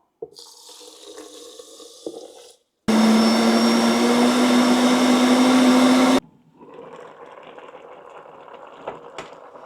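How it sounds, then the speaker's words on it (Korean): A blender grinds perilla seeds in one loud, steady whirring burst lasting a few seconds, with quieter kitchen noise before and after it. "엄마가 이제 그동안에 저기 들깨를 갈아 갖고 올게"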